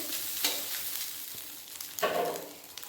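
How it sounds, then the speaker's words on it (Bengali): Fish roe fries over high gas heat in a pan, giving a steady close sizzle with scraping stirs and a louder crackling surge near the end. "মাছের ডিমটা ভালোভাবে ভাজা হয়ে গেছে"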